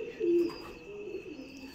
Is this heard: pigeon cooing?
yes